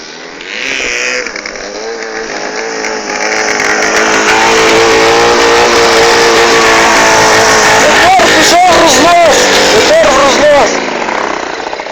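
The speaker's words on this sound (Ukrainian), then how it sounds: "Мотор пішов в рознос." A freestyle motocross bike engine roars loudly and close, running away and climbing in pitch, then revs in several sharp bursts toward the end.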